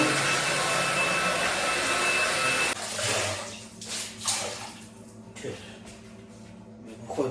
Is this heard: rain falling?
no